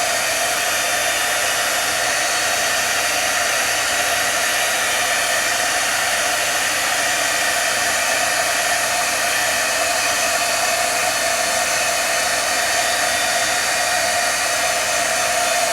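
A handheld heat tool blows continuously to melt embossing powder for a rubber-stamping craft, a steady, close, loud hiss with no change or talking throughout.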